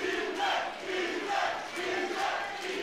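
A crowd at a grappling match roars and cheers in swelling waves, rising and falling in loud surges with no clear talk over it.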